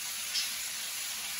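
Steak sizzling in a hot pan with garlic, butter and rosemary, making a steady, close, even hiss with no break and no voices.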